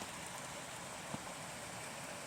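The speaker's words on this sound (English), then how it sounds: "Probably can't see it, but there's a rain." Rain from a severe thunderstorm falls on a surface and small covers, a dense, even hiss of drops with one slightly louder tap midway.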